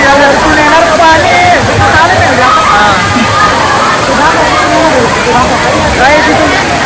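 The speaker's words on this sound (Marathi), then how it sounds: "पाणी वरतून येणार पाणी" Water pours down from above at a crowded water park, a loud, steady wash of splashing that blends with a dense hubbub of many voices talking and shouting nearby.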